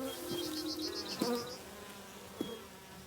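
Honeybees buzzing around a beehive on a family farm, a steady droning hum with a few louder passes of bees flying close by, no voices.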